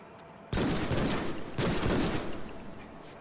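Gunfire in the Deadpool video game: two loud bursts of rapid shots, one starting sharply about half a second in and a second about a second later, each trailing off into echo.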